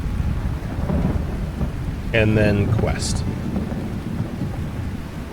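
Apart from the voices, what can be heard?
thunderstorm and rain in the video game Lightyear Frontier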